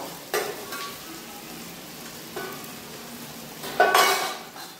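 Ground cumin being stirred in a hot pan for a fish curry, with three short scraping bursts of a spatula over a low, steady sizzle, the last stroke the loudest.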